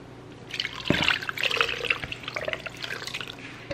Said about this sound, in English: I'm going to pour my mixture over the chicken